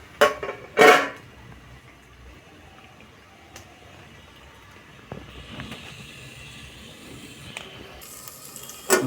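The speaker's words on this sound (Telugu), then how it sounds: "ఇప్పుడైతే మూత పెట్టుకుంటున్నాను." A metal lid is set onto a cooking pot during the making of a masala curry, giving two sharp clanks near the start, then a quiet hiss and faint kitchen noise.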